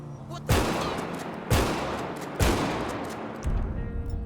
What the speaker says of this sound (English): All right, now let's check out the shotgun sound.